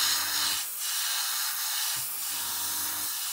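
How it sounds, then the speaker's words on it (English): An airbrush sprays thin paint dry onto a panel of a 1/72 Airfix Vulcan model, giving a steady close hiss with two short bursts swelling louder and no voices. "Again, airbrushing nice and dry."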